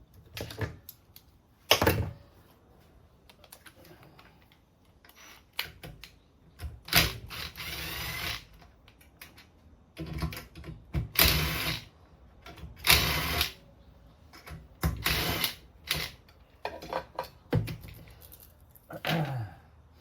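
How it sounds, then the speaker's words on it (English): Plastic clatter and snaps as the top engine cover is pried off a Honda EU20i generator, a series of irregular close knocks, clicks and scrapes separated by quiet pauses. "I'll pull this top engine cover off and we'll go from there."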